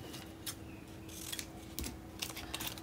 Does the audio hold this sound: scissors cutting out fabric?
yes